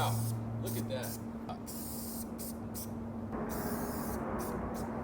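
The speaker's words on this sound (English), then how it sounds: "try the level 4 in a can of Boston and see how that sprays" A Montana spray paint can fitted with a level 4 cap hisses in a steady, continuous spray for several seconds, close and moderately loud, with a low background hum.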